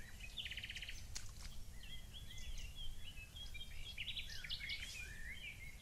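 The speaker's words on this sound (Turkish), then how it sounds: "Kuş sesleri geliyor onun dışında." Several birds sing and chirp in a forest on a hillside beside a rural village house, overlapping trills and whistled phrases at moderate distance over a soft steady background hum, with no talking.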